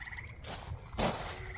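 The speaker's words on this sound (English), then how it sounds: "Tree frog." A tree frog croaks a few times from somewhere nearby on an outdoor compound, a soft repeated call with a brighter burst near the middle.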